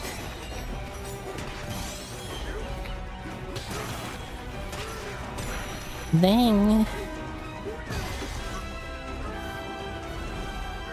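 Donkey Kong smashes through objects in a Nintendo Switch 2 game: a sudden loud crash bursts out over busy game music, with someone talking over the action.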